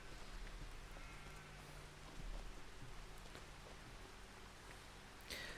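Steady rainfall in the Farming Simulator 25 video game, a soft continuous hiss of drops on surfaces, quiet and even with no talking.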